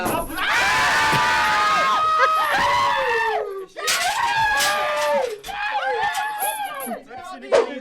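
Loud, frantic screaming and shrieking from a group of people inside a haunted house attraction, several voices overlapping in long wailing bursts with brief dips between, close and continuous across the clip.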